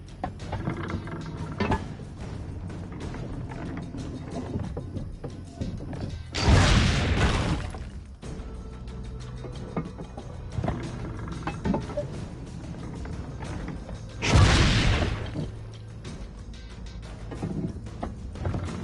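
Two heavy cannon blasts from a test-fired cannon in Assassin's Creed Brotherhood, each a loud broadband boom roughly eight seconds apart, rising over a steady mechanical background hum.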